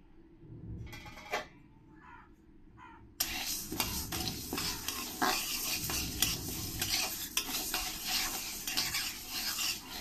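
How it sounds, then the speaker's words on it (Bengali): Masoor lentils being dry-roasted and stirred in a hot wok with no oil, a few light scrapes at first, then steady close rustling and scraping of the spoon through the dry grains, with no talking. "মসুরির ডালটা আমি একটু কড়াইতে ফ্রাই করে নেব।"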